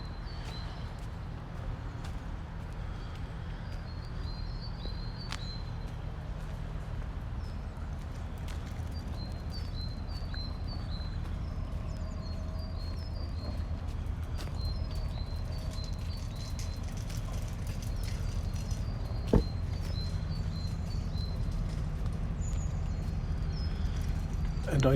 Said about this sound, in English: I can actually hear birds in the trees now calling to each other.